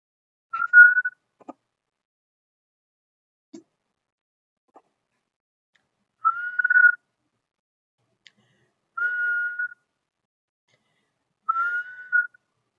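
A person whistles short, steady single notes as a tic, four separate bursts spaced a few seconds apart with near silence and faint clicks between them.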